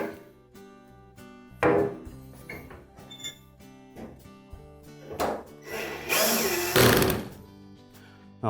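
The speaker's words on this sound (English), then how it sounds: "We'll then put the retaining screws in place." Retaining screws being driven into the front panel of a Norge dryer cabinet, heard as a few short bursts of power-driver whirring mixed with clicks and metallic handling knocks, moderately close, with no talking.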